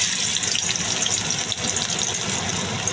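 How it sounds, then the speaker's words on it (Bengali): Leaf fritters made from kul khara leaves fry in a small amount of hot oil, producing a continuous, even sizzling hiss up close with no speech. "এবার আমি বড়ার মতো করে অল্প তেলে আমি ভেজে নিচ্ছি।"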